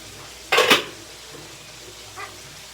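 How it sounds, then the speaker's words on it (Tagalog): A metal utensil scrapes and clanks once in a pan while stirring Baguio beans, followed by a softer second clink a moment later against a quiet kitchen background. "Halo ko na yung Baguio beans."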